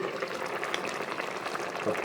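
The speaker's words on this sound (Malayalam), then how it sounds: "നന്നായിട്ട് തിളച്ച് വന്നിട്ടുണ്ട്" Manthal fish curry with mango bubbles in a pot just after the lid comes off, a soft continuous burble of boiling liquid at close range.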